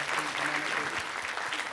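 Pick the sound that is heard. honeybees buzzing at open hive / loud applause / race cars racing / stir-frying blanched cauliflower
loud applause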